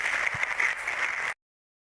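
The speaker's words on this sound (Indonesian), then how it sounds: "tepuk tangan ibu untuk Hilman" Women at an Islamic study gathering applaud Ustaz Hilman Fauzi in a short, fairly soft burst of dense clapping that stops abruptly after about a second.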